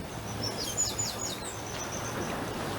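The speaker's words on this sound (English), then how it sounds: "Just listen to the blackbirds, people." Blackbirds sing outdoors at Schooner Bay, clear, descending whistled phrases drifting over a steady low background rumble, moderately distant.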